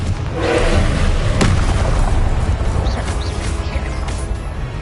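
Confringo fire-spell explosions burst in Hogwarts Legacy combat, a loud booming rumble with a sharp crack partway through and continuing blasts, all at close range.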